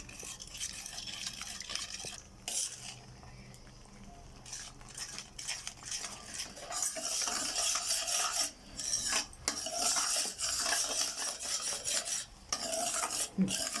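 Cornflour mixture being stirred into beetroot jelly in a pan, a steady scraping swish of spoon against metal that runs with brief pauses and grows denser and louder in the second half.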